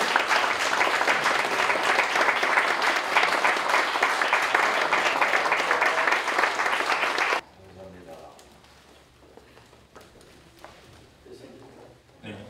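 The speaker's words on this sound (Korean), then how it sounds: "우리 뜨겁게 박수해 주십시오" A congregation applauds loudly and steadily at a church installation ceremony for a new association president, then the clapping cuts off abruptly into a much quieter room.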